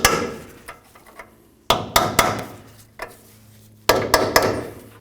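A hammer knocks a ball joint clip into place on a Toyota Tundra, giving sharp metallic taps in small clusters of two or three, close and loud with ringing decay between strikes, and no talking.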